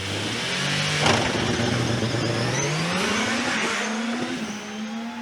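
A DJ Firestorm hill climb car with a 2.5 V6 engine at the Shelsley Walsh Hill Climb, loud close engine revving and climbing through gears with tire squeal as it passes.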